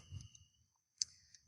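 Computer mouse buttons clicking during a screen walkthrough, a few sharp isolated clicks with a louder one near the end, fairly close and faint, with no talking.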